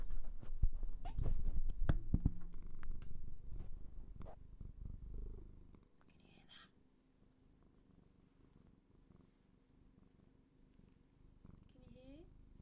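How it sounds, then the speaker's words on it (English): A pet cat named Ember purring close to a microphone, a soft low rumbling hum that continues quietly after some louder handling noise and a brief voice at the start. "Ember's like sat purring"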